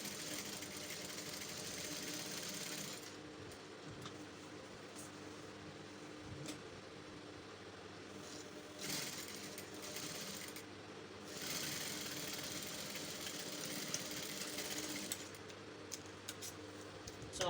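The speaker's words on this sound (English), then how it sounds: "Then I'm going to sew." A sewing machine stitches fabric for a kimono shift dress with pocket, running as a faint, steady mechanical whir with a few brief pauses and bursts, no talking over it.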